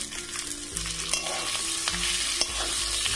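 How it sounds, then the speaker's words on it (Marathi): Potatoes drop into a hot frying pan and sizzle loudly, with stirring scrapes and clinks over the crackling oil, close up and without talk. "तर हे आलू आता मी याच्यामध्ये टाकून देते।"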